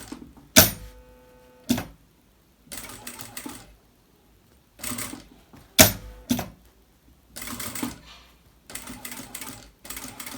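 A sewing machine stitches a seam in several short, loud bursts of rapid mechanical clatter, separated by pauses of near silence.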